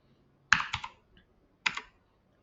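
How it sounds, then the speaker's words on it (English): Typing on a computer keyboard while entering AutoCAD commands: two short bursts of rapid close key clicks separated by a pause, with a lone keystroke at the end. "You can continue by just only using the keyboard."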